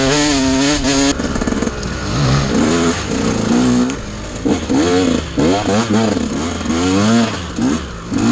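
A KTM 125 SX or GasGas 250 dirt bike being set up for enduro revs hard and close, its engine pitch rising and falling in repeated swoops through the whole stretch.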